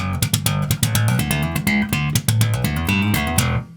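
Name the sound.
slap bass fast line played with thumb bounce technique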